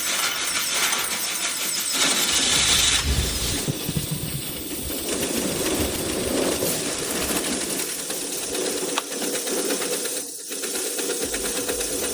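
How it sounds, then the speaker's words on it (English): The engine of a restored 1975 vintage fire truck runs steadily nearby with a constant mechanical whine and rattle, continuous with no talking. "the engine sounds great, super clean, no big issues"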